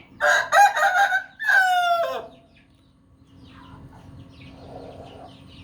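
A Burmese rooster crows loudly nearby, a long strained call lasting a couple of seconds, followed by faint background clucking and quiet ambience.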